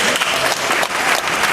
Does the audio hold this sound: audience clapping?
yes